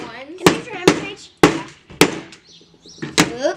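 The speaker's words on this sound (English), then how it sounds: "Can you use your hammer, Paige?" A hammer strikes nails into a homemade wooden bird feeder with four or five loud, sharp, close blows at irregular intervals, and faint voices come in the pauses.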